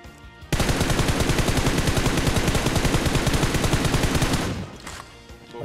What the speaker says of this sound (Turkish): Ta evin köşesinde minnacık pencereden sıkıyor şerefsiz.